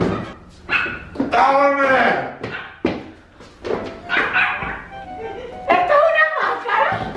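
A dog barks and yips amid loud, excited shouting during a prank, with the close, sharp barks mixed in among the voices.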